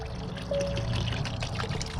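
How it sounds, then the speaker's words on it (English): Salt remover liquid poured into a 2007 Johnson 15 HP two-stroke outboard motor, a steady trickling pour that runs for about a second and a half, close and fairly quiet, with no talking. "We're gonna go ahead and pour some of the salt remover."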